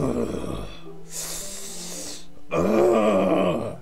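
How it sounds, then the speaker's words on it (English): Sharp hissing intake of breath through clenched teeth in Doki Doki Literature Club, a bright airy rush between heavier breathy, groaning vocal sounds, fairly close and loud. "A sharp inhale, someone sucking air through the teeth."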